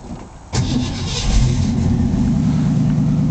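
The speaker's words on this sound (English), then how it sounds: "I want to let you hear it start up and running" A 1966 Ford Mustang Fastback on a cold day cranks briefly, fires up abruptly, and settles into a loud, steady, rumbling idle close by, with no talking over it.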